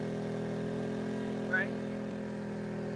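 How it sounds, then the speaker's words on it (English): An EcoFlow smart generator's engine runs in a steady, even hum, fairly quiet and constant, with a brief higher chirp partway through. "So actually just turn on the smart generator here."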